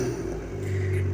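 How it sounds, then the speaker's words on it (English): Abarth engine fitted with a pop-off filter system, a short steady rev held at a close, loud, low hum for just over a second. "I'll give it a few small revs just to show you guys what it's actually like"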